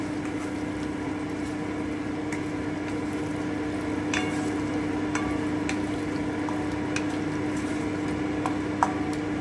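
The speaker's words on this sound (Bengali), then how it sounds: "এবারে আমি চিংড়ি মাছটা দিয়ে দিচ্ছি ভেজে রাখা। আমি একটু নেড়ে নিচ্ছি।" Fried prawns stirred into cooked masala in a pan for prawn bhuna, a soft steady sizzle with occasional light scrapes and clicks of the spoon, close and alone without talk.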